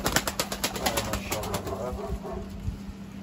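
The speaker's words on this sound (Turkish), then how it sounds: "Bak kuşlar haddinden fazla dönüyor." Pigeons of a 40-year Isparta bloodline in a loft, cooing steadily while wings flap in quick repeated bursts, close and busy, with a voice talking faintly underneath.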